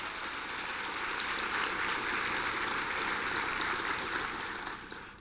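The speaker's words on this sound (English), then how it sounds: "So let's give them a round of applause." An audience gives a round of applause for donors at a university address, a dense, even wash of clapping that holds steady for several seconds and then thins slightly at the end.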